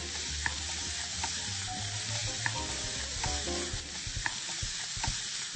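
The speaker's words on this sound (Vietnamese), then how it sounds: "Chúng ta xào tiếp cho thật là đều này nha." Minced pork with carrots, green beans and corn sizzles steadily in a hot pan while a utensil scrapes and stirs with light clinks, close and continuous.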